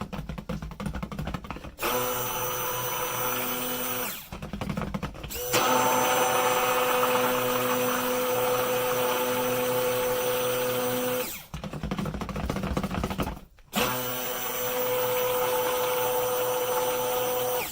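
Stick blender mixing soap batter, running in steady loud whirring bursts close by, with several short pauses between runs and no talk.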